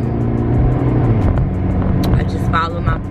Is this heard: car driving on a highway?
yes